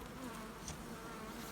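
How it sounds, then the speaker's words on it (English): Honey bees buzz softly and continuously while a hive frame is handled during queen grafting, a low steady drone with a close bee passing briefly. "just filling them up with bees"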